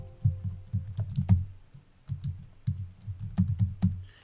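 Fingers type a short word on a computer keyboard in two quick bursts of soft, close clicks and taps with a brief pause between them, heard alone.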